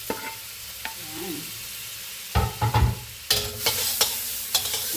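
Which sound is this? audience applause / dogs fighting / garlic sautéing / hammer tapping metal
garlic sautéing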